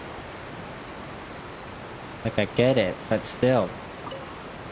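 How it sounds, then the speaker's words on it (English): A loud waterfall roars in the video game Genshin Impact as a constant broadband rush, while a person talks briefly over it. "this freaking waterfall is so loud"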